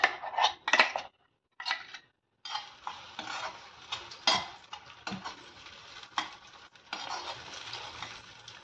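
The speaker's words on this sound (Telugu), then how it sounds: "స్టవ్ ఆన్ చేసి ప్యాన్ పెట్టుకున్న తర్వాత ఇది రుబ్బుకున్న పేస్ట్ దీంట్లో వేసి ఫ్రై చేసేసుకుందాం." Ground spice paste for Bagara Baingan frying in a pan on a stovetop, with close, repeated scraping and stirring of a utensil against the metal pan over a soft sizzle, and no talk.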